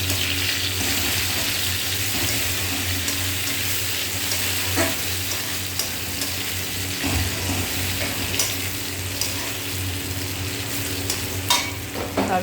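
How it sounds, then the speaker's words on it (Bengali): Chopped tomatoes sizzling and frying in a pan over low gas flame with hand-ground spices, a steady close hiss with occasional stirring scrapes and no talk. "এবার প্রথমে আমি দিয়ে দেবো টমেটো কুচিটা। এখন গ্যাসের ফ্লেমটা আস্তে রেখে দিতে হবে।"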